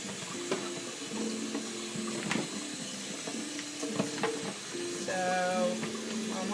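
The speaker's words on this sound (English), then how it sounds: "I'm just going to put it in a strainer and give it a little wash here." Cut potatoes being rinsed with water in a strainer, a steady close splashing and trickling with clattering knocks, while a faint voice talks in the background.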